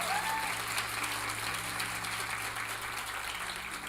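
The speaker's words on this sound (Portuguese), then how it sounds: "Aplausos a Aline, gente" A church congregation applauds, producing a steady, even wash of clapping that sounds faint and somewhat distant, continuing unbroken throughout.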